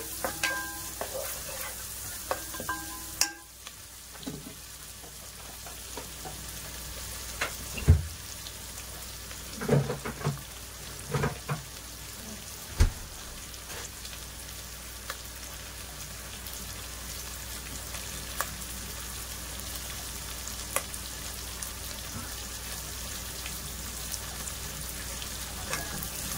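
Onions fry in a pan, giving a soft, steady sizzle with occasional stirring clatters and scrapes, fairly quiet and continuous with no talking.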